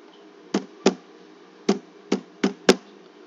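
Six distinct, fairly loud key presses on a computer keyboard while entering cash values in Finacle banking software, spaced unevenly over a quiet background.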